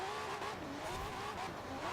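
Honda NSX-R GT Hybrid racing on tarmac in Forza Horizon 4, engine droning steadily with rising and falling pitch as it brakes and accelerates, tires faintly squealing, continuous and close with no talk.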